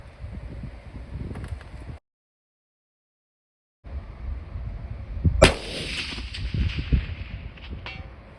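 A shot from a Russian sniper rifle rings out once, sharp and loud, over steady outdoor wind and rustle, with a long ringing tail after the blast.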